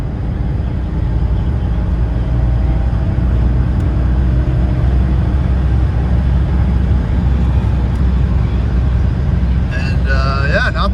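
A 1998 BMW 323is E36 engine pulling hard in fourth gear, a loud, steady in-cabin drone with a faint voice over it near the end.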